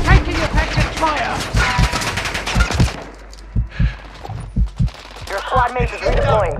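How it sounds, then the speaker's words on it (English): Machine-gun fire on Ashika Island in Warzone comes in rapid bursts of loud, close shots. A short pause follows, then scattered single shots, and another burst resumes with game voice lines mixed in. "Taking effective fire!"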